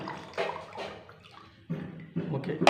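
Water poured onto a JUS LEAP ANION sanitary napkin, a soft splashing trickle in short bursts with a voice faintly underneath.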